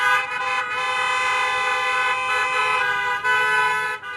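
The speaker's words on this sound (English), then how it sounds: "stating their case with hard honks and bold beeps" Loud, sustained car horns blare together in a dense, continuous chorus at a lobstermen's protest around a government compound, with brief dips between long honks.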